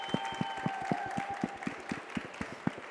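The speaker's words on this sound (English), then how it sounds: "I want to ask a round of applause for Alicia" A small audience at a tech conference session claps for a presenter in a sparse, fairly faint patter of individual hand claps, with a steady hum beneath.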